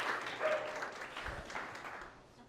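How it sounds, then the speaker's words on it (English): An audience applauds at a live talk on deception, suggestion and influence, steady clapping from a crowd filling the room at moderate level, fading slightly toward the end. "A big round of applause for Alex"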